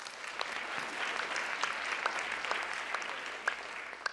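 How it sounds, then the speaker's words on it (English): An audience at the White House Correspondents' Dinner applauds steadily, a dense, even wash of clapping hands that holds at a constant level throughout with no voices rising above it. "Give him a round of applause."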